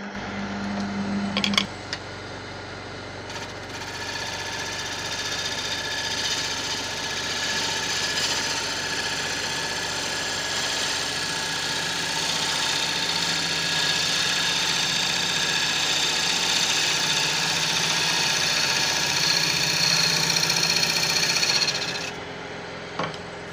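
A wood lathe spins as a cryogenic tool cuts a Tigerwood bowl, giving a steady mechanical hum and scraping that runs for about twenty seconds before stopping, close and with no talking.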